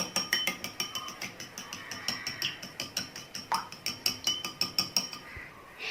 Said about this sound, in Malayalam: ഇനി ഇതിലേക്ക് നമുക്കൊരു 2 ടേബിൾ സ്പൂൺ പാലൊഴിച്ചു കൊടുക്കാം. എന്നിട്ട് നല്ലപോലെ ഒന്ന് മിക്സ് ചെയ്തിട്ട് എടുക്കുക.